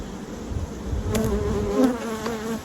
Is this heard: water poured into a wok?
no